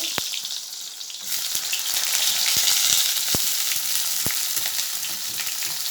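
Oil heating in a pan before pointed gourd is fried, a sizzle building louder after the first second, scattered sharp pops and ticks throughout, no voices.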